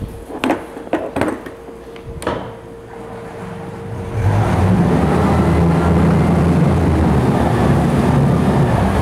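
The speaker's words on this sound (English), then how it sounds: "Good running motor." A 2005 Johnson 90hp long-shaft EFI outboard motor idles in a test tank, with a few clanks at first before a steady, loud running drone takes over from about four seconds.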